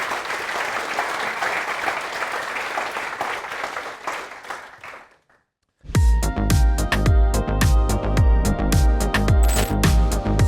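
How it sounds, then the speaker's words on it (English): A conference audience gives a sustained round of applause for the speakers and sponsors, steady dense clapping for about five seconds that tapers off into silence before loud, rhythmic music with a heavy beat begins. "Can we give them a round of applause as well as the sponsors?"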